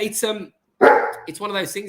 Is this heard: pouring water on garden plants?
no